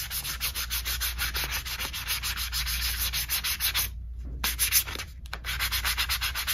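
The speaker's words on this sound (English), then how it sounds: "I'm gonna use the sanding block and I'm going to sand this all the way around here" A sanding block rubs back and forth over a shoe insole in steady, rapid strokes, producing a continuous loud rasping scrape with a brief pause partway through.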